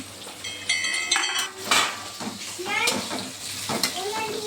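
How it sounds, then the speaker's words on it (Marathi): Fresh coriander hits hot tempering oil for a home-style vegetable curry, giving bursts of loud sizzling and crackling mixed with a spoon stirring and scraping the pan, close up. "कोथिंबीर आपण फोडणीला टाकायचं आहे"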